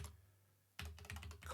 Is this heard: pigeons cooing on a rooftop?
no